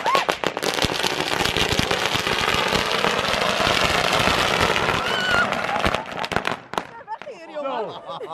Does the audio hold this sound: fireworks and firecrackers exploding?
yes